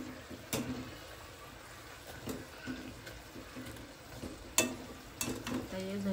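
Karanji frying in hot oil give a steady bubbling sizzle, broken by a few sharp clinks and scrapes of a utensil against the pan.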